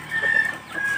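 A chicken clucking during a fight with a duck, two short strained calls close by in an outdoor yard, fairly loud with no talk.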